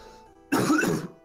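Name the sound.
voice imitating a cough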